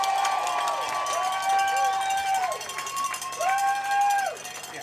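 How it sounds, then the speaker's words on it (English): A crowd at the New England Free Jacks rugby championship rally cheers and claps, with high whooping shouts and a cowbell-like clatter rising and falling over the noise. "Give him a round of applause"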